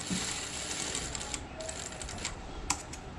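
A sewing machine runs a stitch along the folded edge of a blouse front, a soft continuous mechanical whir with faint ticking clicks and a couple of sharper taps, close and fairly quiet with no talking.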